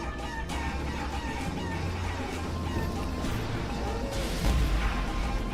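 Chicken clucks and squawks from the video game Guacamelee sound over game noise, with crashing impacts and a busy, dense background of effects.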